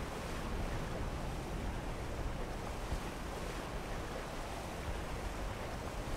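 Water draining in the Black Mesa video game, heard as a steady, even rush of broadband watery noise that holds at a constant level throughout, with no voices over it.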